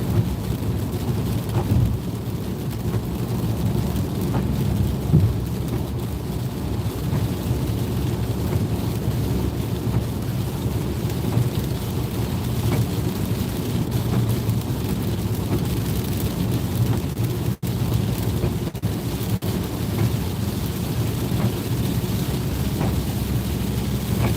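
Rain falling during highway driving, heard as a steady, dense wash of noise with a heavy low rumble of tyres and road underneath, continuous and unbroken for the whole stretch, with no talking.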